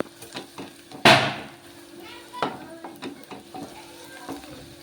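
Onions fry in a pan with a soft continuous sizzle, broken by a sharp clatter of stirring and a few lighter scrapes and knocks nearby.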